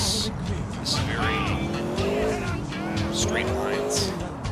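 In GTA IV a fast car roars along with a steady engine drone, rising and falling revs and squealing tires, loud and continuous while someone talks over it.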